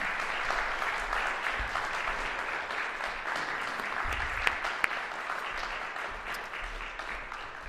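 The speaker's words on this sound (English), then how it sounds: "We have another round of applause for all of the seniors." Audience applause for seniors at a music capstone event, a steady, fairly quiet wash of many hands clapping that carries on evenly for several seconds with no voices over it.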